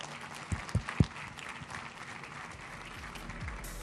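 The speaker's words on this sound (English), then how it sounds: "one more round of applause, please, for Luke's talk today" Conference audience applauding at the end of a tech talk on designing a messaging app, a few loud claps at first and then a softer, steady patter of clapping that fades, somewhat distant.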